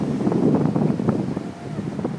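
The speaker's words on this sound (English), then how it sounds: "Sorry, it's so windy." Strong wind at a beach buffets the microphone in heavy, rumbling gusts, loud and close, with a brief lull before it picks up again.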